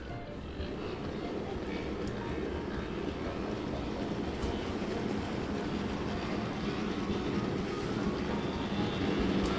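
An OO scale kit-built model of a London, Brighton and South Coast Railway C2 class 0-6-0 steam locomotive runs along its track, a continuous low rumbling whir with a faint rattle, steady and moderately quiet throughout.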